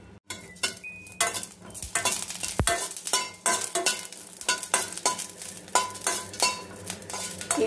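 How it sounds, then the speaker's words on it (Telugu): Green chillies frying in a pan for a coriander stem chutney, with a soft sizzle under repeated scraping and stirring clinks of a metal spoon against the pan, close and fairly loud. "ఇలా పచ్చిమిర్చి అయితే ఫ్రై చేసుకోవాలి."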